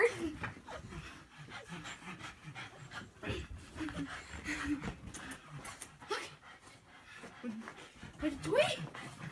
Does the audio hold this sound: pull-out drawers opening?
no